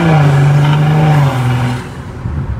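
Stage 2 tuned BMW M340i engine revving loudly up close, a strong sustained tone that holds then drops in pitch and fades as the revs fall away.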